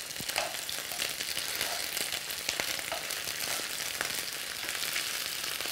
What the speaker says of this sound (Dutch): Nou, blijven we nog eventjes de worstjes bakken.